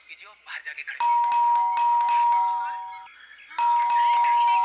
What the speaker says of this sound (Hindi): तो तुम बजाओ घंटी, शायद तुम्हारे हाथ से सुन ले।